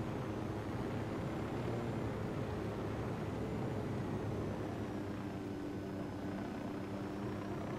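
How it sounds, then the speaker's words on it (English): Helicopter in Ghost Recon Wildlands drones steadily with a low rotor hum and a faint whining engine tone, continuous and moderately distant, no talking over it. "What helicopter do they have over here?"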